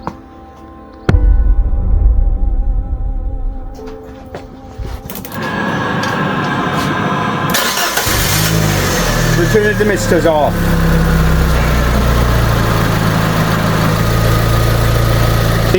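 A Fiat 500 engine with a freshly repaired head gasket catches after a brief crank and settles into a steady, fairly loud idle. People talk over the running engine.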